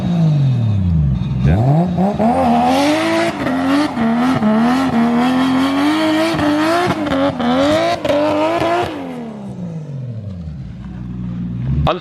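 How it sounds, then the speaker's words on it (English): A drift car with a BMW N54 engine revs hard and close, climbing and holding high with rapid gear-like stutters and tire noise before winding down and rising again. "Listen how crazy this is, how similar the N54 sounds to the 1J."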